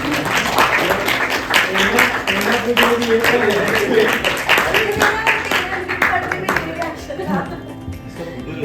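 A party crowd of marathon runners applauds at a celebration venue, steady mid-distance clapping and cheering that runs throughout, mixed with a voice talking over a sound system.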